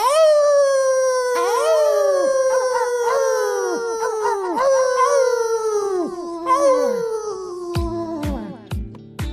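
A voice imitates dogs howling in a story, with long, wavering, falling howls that overlap and repeat one after another. The howls are close and loud, and a few shorter yelps come near the end.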